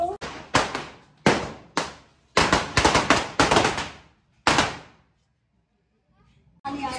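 Firecrackers go off near and loud as a string of sharp bangs, some single and some in rapid clusters, each decaying quickly, followed by a quiet stretch and then voices talking.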